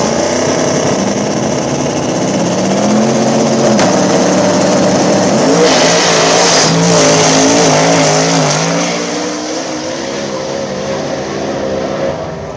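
Two drag cars on a small-tire back-of-the-track race, an old Mopar with a twin-turbo Hemi against a single-turbo LS, roar loudly past, with engines rising in pitch through the gears and then fading away.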